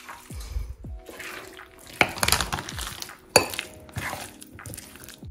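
Frozen Indian gooseberry (amla) pickle is mixed in a bowl, giving wet squelching and sloshing with several sharp clinks and scrapes against the bowl in an uneven rhythm, close and fairly loud.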